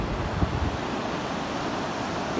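Ocean surf at Aldinga Beach washes in as a soft, continuous broadband rush, with a low rumble early on and faint wind buffeting, no voices.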